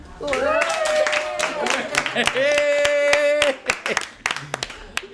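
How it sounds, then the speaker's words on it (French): Girls clap along in a small group during a makeover session, a burst of sharp, close hand claps mixed with excited voices and talk. "Et les filles, on applaudit."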